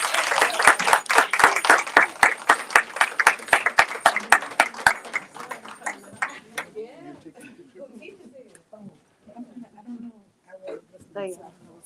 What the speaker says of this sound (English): So please give me a round of applause.